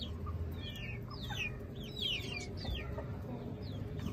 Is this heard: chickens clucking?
yes